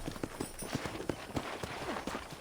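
Rapid rhythmic hoofbeats of a horse galloping in the video game Red Dead Redemption, clip-clopping at a quick steady pace over a faint background.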